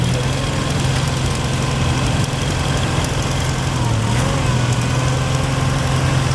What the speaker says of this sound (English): Here's a Case 646 lawn tractor with a front end loader and a rototiller.